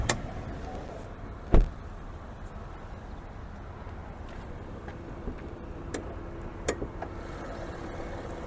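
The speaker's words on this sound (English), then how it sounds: "let me pop this hood" The hood of a 2022 Chevrolet Colorado LT Crew Cab with a 3.6-liter V6 is popped open. A single sharp, close latch clunk stands out early, followed by a quiet outdoor hush with a few faint clicks.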